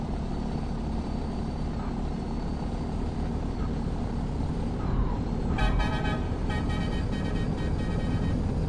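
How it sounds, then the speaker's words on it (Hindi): A Volvo truck's horn in Euro Truck Simulator 2 blares in a loud, sustained blast over the engine's steady low rumble, sounding in the latter part after a stretch of driving. "हॉर्न बहुत खतरनाक है इसका।"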